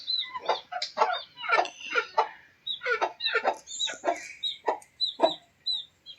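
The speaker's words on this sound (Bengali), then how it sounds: "এই দেখো মুরগির বাচ্চা, 10টা বাচ্চা ফুটেছিল" Hens and chicks in a farmyard on Little Andaman cluck and cheep in a busy run of short, repeated calls, fairly close and moderately loud, and no one speaks.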